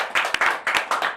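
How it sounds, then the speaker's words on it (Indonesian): An audience claps in a burst of scattered hand claps, fairly close and lively, during a comedy talk show. "Tepuk tangan dong."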